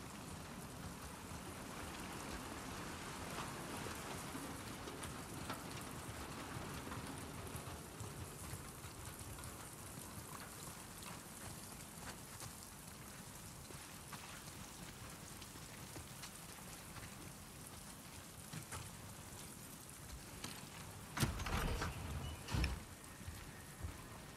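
Rain falling in the video game The Last of Us Part II, a soft, steady patter and hiss that stays faint and even throughout, broken near the end by a few brief louder knocks, with no talking.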